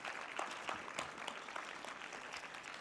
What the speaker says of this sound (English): can we give a round of applause to our sign language interpreter to my left?